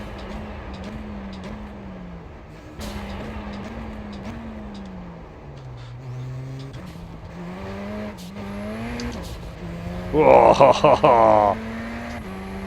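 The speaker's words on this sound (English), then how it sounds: "I'm burning out the tyres" In the iRacing sim, a race car's engine drones and rises through its revs, then a loud, harsh burst of tyres burning out and squealing lasts about two seconds. A driver lets out a short exclamation.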